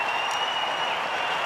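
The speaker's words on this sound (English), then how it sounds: "Crowd very happy to see their champion back." A large Australian football crowd at a Brisbane versus West Coast match cheers and applauds a returning champion player, a dense, continuous roar of clapping and shouting that holds steady throughout.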